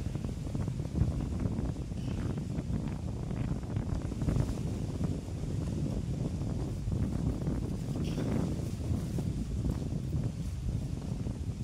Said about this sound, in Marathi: वारा खूप आहे.